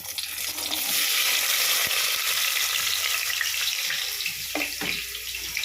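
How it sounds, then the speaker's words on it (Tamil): Onion and fennel seeds fry in hot oil for mutton nurai dabba, a loud, steady, close sizzle that fills the whole stretch, with a few faint clinks near the end. "இது சோம்பும் வெங்காயமும் வதங்கட்டும்."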